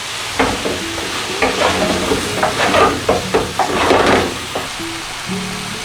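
Onion fries in a pan while a spoon stirs it, irregular scraping and clattering strokes over a continuous sizzle, close and fairly loud, with no talk.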